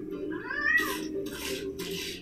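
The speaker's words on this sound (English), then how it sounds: "It's just Mikey's ice cream mutated pet cat, yo." A cartoon cat meows once, a rising, high-pitched mew from Ice Cream Kitty, the mutated ice cream pet cat in the 2012 Teenage Mutant Ninja Turtles series, followed by short bursts of noise.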